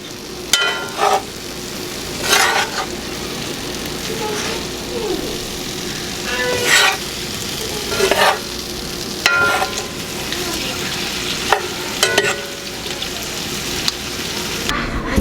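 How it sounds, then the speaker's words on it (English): Sweet potatoes frying in a pan while being stirred and turned over, a constant sizzle broken by repeated loud scraping and clattering strokes of the utensil, close and fairly loud. "It's just gonna give it a stir and turn everything over."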